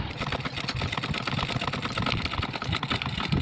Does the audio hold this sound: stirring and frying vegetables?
no